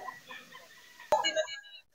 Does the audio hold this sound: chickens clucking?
yes